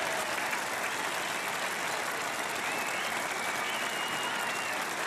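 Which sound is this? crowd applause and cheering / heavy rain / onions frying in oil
crowd applause and cheering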